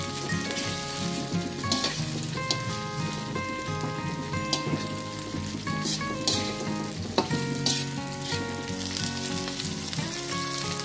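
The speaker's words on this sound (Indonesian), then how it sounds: "Lanjut masukkan tahu Jepang yang sudah digoreng." Pre-fried Japanese tofu is added to a pan of fragrant aromatics and fries there. A constant crackling sizzle with light stirring sits beneath background music the whole time.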